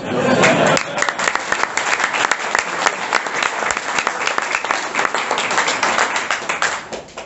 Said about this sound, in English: I thought you got more of a clap than that.